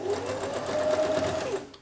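Sewing machine stitching a women's blouse with a Peter Pan collar, running steadily near the button placket; a close, continuous mechanical whir with a faint tonal hum, slowing at the end.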